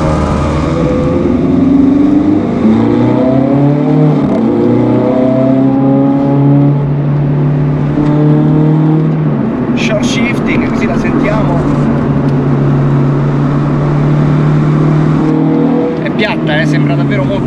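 A Ferrari 430 Scuderia's naturally aspirated engine revs loud and close on a race track, pitch climbing and falling through several gear changes, with someone talking over the sustained engine note throughout.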